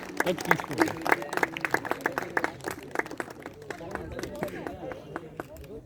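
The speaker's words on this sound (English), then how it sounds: "Please have a round of applause for Daksh Verma." A round of applause for a prize winner at a school felicitation ceremony: a scattered, moderately loud burst of individual claps from a modest crowd that thins out toward the end.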